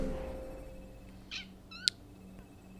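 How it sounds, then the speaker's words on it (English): A cat in an Assassin's Creed video game lets out a couple of short, thin meows over a quiet ambient hum, fairly faint and isolated, with a soft click near the end. "Oh, cats."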